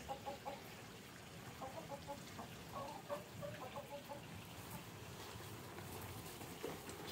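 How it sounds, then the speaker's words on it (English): Chicken clucking in short repeated bursts at moderate distance over a steady outdoor background hiss, faint and intermittent. "You can catch this chicken"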